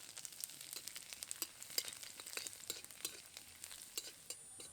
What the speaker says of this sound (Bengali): আদা রসুন কুচি হালকা করে ভেজে নিয়েছি